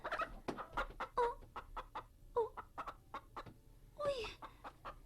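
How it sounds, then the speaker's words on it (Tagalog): Brooding hen sits on quail eggs, giving repeated close, soft clucks and short throaty calls in an uneven rhythm, with occasional higher squawking notes. "Ang himungaan nga akong gipalumlum sa itlog sa pugo."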